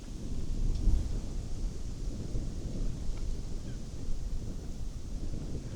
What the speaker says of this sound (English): And that wind.